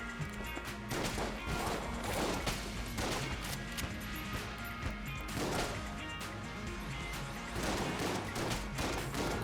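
Gunfire in Enter the Gungeon, a steady stream of fairly quiet, rapid shots and crashing impacts layered over constant game music.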